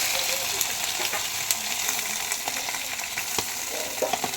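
Vegetables for shukto fry in a pan, giving off a constant loud sizzle dotted with small crackles and pops, with no voices over it.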